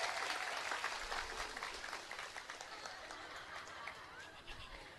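Sustained clapping from a large audience at an Islamic sermon gathering, dense and steady, heard from a distance and gradually tapering off slightly.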